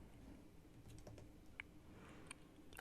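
Soft, quiet keystrokes on a Mac computer keyboard come in short scattered bursts with a few sharper clicks, close and faint against a low room hiss, with no voices.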